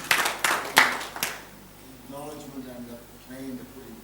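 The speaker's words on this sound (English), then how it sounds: "Give her a clap" Audience clapping after a participant at a OneLife session, a short burst of several sharp claps in the first second and a half, then a voice talks.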